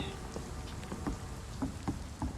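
Rain falls in the video game Vampyr as a dense, even patter, with soft scattered drop ticks spread across a short stretch and no voices.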